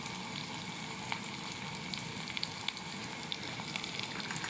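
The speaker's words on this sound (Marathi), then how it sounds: "कांदा, मिरची, कढीपत्ता तेलामध्ये छान तळत आहे" Onion, green chili and curry leaves fry in hot oil with a steady, close sizzle and scattered small crackles and pops throughout, with no voices.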